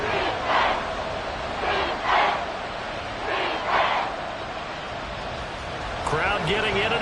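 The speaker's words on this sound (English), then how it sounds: "Crowd getting in it a bit already." A Madden 24 football stadium crowd roars in recurring swells, a broad distant rumble of cheering that rises and falls every second or so beneath a play-by-play voice.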